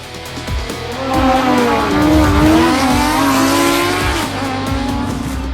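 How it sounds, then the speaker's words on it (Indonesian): A MotoGP racing motorcycle at speed makes a loud, close engine note that rises and falls in pitch as the rider brakes and opens the throttle, with sustained whine and no talking. "menampilkan Danilo Petrucci beraksi dengan mengerem dan membuka gas di saat yang tepat"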